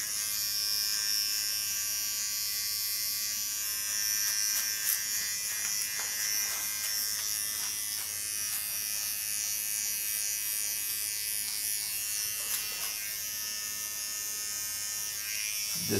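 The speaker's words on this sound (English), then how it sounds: "The small Kioni clipper has a ceramic blade" Small Kioni hair clipper with a ceramic blade buzzes steadily and close up as it cuts hair along a contour line, a continuous electric hum with slight shifts in pitch and no talking.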